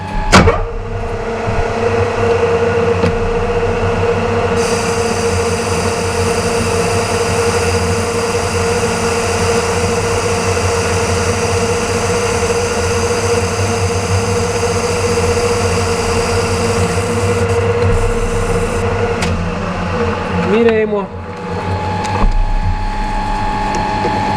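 A metal lathe cuts a groove into a steel gear shaft, giving a steady, loud mechanical drone with a constant whine and hum that runs continuously before dipping and changing briefly near the end.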